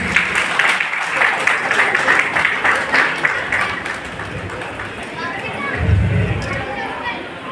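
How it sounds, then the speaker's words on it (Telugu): Audience applause at a kung fu association's 13th anniversary ceremony, a sustained crowd clapping with an announcer's voice over it and a brief low thump near the end. "అందరూ చప్పట్లు కొడదాము."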